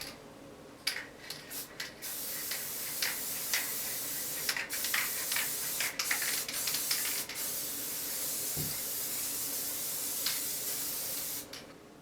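An aerosol can sprays onto quilt fabric in a steady hissing stream for most of the stretch, broken by short sharp bursts near the start and a few quieter pauses, with no talking.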